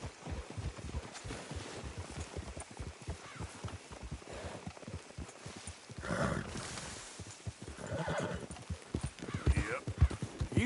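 Several horses clop along in a dense, rapid patter of hoofbeats, with a few neighs rising over the trotting, heard at moderate distance.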